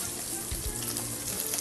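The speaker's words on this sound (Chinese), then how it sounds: "先把它加下锅来，先去炸一下" Cauliflower florets hiss and crackle as they deep-fry in a pot of hot oil, a soft, steady close sizzle with no one speaking.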